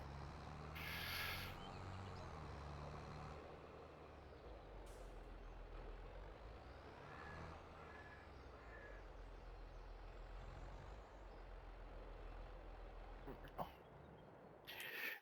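A truck and trailer being parked in Farming Simulator 22, a steady low engine rumble running throughout with a hiss of air brakes and faint beeps, heard alone without talk.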